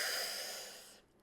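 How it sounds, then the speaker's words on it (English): A single slow breath drawn in through the mouth during a guided breathing exercise, close and airy, steady for about a second before tapering off into near silence, with no voice over it. "Breathing in and out through the mouth."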